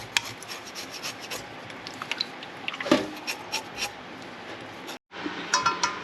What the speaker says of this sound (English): Scrub it clean.